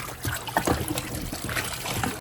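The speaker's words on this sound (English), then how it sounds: "Then I'm going to add a second dose of water on the chicken to wash it again." Water splashes and trickles over raw chicken in a bowl, a steady close-up pour with irregular sloshing and dribbling.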